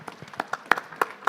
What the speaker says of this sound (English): we really want to give a big round of applause to our panel